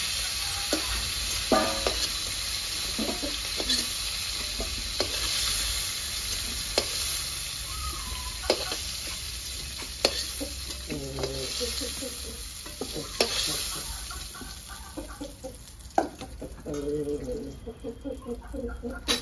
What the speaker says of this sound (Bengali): ফুলকপি ভেজে নিয়েছি, বেশি ভাজবো না, হালকা করে ভাজবো।